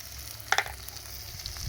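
Spice paste frying in a pan with salt and turmeric, a steady crackling sizzle broken by a quick pair of utensil knocks early on.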